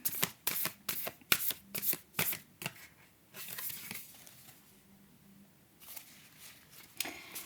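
Oracle cards being shuffled by hand up close: a quick run of papery riffles and slaps, then a softer, slower shuffle that trails off before a few final taps.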